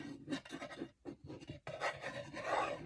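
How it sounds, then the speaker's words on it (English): Close, scratchy rubbing and scraping in uneven strokes, with short pauses between bursts, as glue is spread across wood. "I'm just going to run the glue around the wood, and then I'm going to spread it around."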